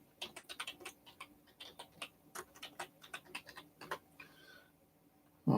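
Someone types on a computer keyboard, a close, irregular run of crisp key clicks with short pauses between bursts.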